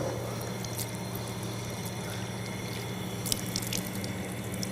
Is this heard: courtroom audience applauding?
no